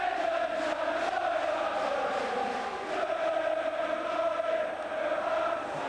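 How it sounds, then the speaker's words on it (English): A large football crowd at a Gillingham versus Swindon Town match roars and chants in a sustained, wavering wash of voices, heard at a distance with no other sound standing out. "I needn't say a word, just listen to that crowd"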